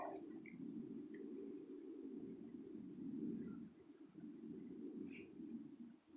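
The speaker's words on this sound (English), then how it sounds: "The birds are singing. They got pretty voices" Birds chirp sparsely and faintly in a springtime neighborhood in Nova Scotia, Canada, their scattered calls sitting above a steady low outdoor rumble.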